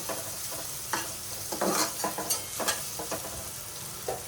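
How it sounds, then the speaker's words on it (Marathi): Onion frying in oil in a pan at home, a continuous close sizzle broken by repeated scraping stirs of a spatula at an irregular rhythm, with no speech. "इथे आता मी कांदा हा लाल करते"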